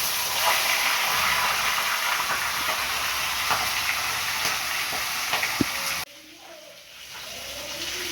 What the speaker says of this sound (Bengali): মাছের মাথা ভাজা হয়ে যাচ্ছে।